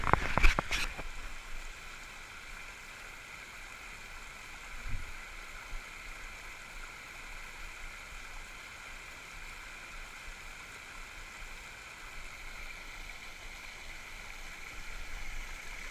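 A spring waterfall and stream at a retreat make a continuous, even rushing wash, heard from a middle distance, with a couple of sharp knocks at the start and a faint thump partway through.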